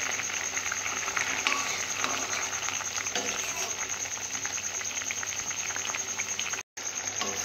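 A Bengali puti fish curry with potatoes simmering in a pot, giving a steady, dense bubbling and sizzling hiss that runs without a break until a brief cut near the end.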